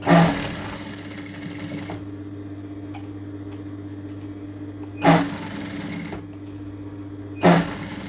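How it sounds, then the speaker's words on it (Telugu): Sewing machine stitching piping onto a blouse, with short loud bursts of rapid stitching between longer stretches of quiet, steady humming. "ఇలా పైపింగ్ పక్కనే స్టిచ్చింగ్ పడేలాగా పైపింగ్ ఎంత సన్నగా ఉంటే బ్లౌజ్ అంత ఫినిషింగ్ బాగుంటుంది"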